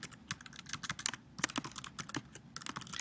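Rapid clicking of keys on a computer keyboard, close and distinct, in an irregular, continuous run of keystrokes with no speech.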